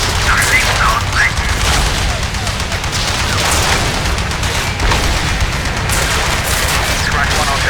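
Anti-aircraft fire in the flight game Heroes over Europe: a dense, continuous barrage of gunfire and dull booms, loud and close, rattling steadily throughout without any voices.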